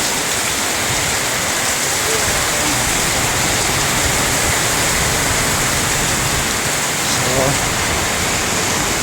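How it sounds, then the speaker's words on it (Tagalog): Heavy rain pours down in a loud, steady broadband roar beside a building in Cotabato, continuous and close throughout, with a brief faint voice-like sound near the end. "Kabubuhos lang ng ulan."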